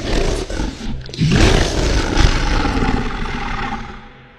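A lion roars from a lion's den: one loud, deep, sustained roar lasting about four seconds, rumbling and close, with no other sounds around it.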